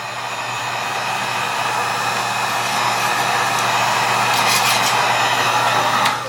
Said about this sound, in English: Hit the pallet with a heat gun for about a minute.